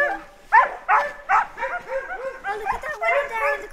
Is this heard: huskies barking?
yes